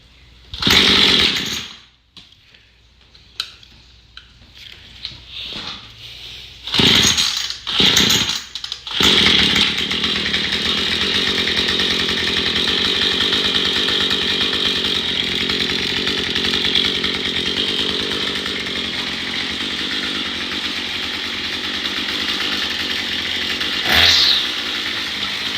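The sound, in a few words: small gas engine starting and running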